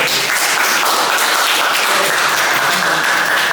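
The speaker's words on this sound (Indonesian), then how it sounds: "Kita kasih aplaus dulu kelompok dua." Dense, steady applause from a classroom of students clapping for group two, loud and continuous throughout with no talk over it.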